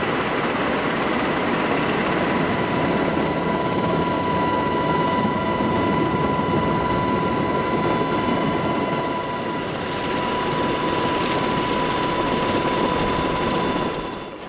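A military helicopter's steady rotor roar and engine whine fill the whole stretch, loud and close, holding constant throughout with no talking.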